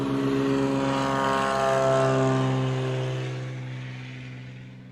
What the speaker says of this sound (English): These sub 750-foot takeoffs and landings are impressive.